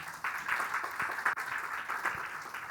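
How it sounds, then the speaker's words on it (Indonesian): A congregation at a women's church service applauds: a steady wash of many hands clapping at moderate volume, somewhat distant and continuous throughout. "Tepuk tangan buat."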